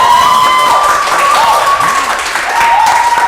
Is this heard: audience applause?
yes